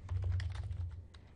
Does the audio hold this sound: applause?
no